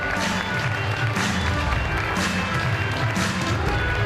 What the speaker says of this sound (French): Je vais l'applaudir très fort.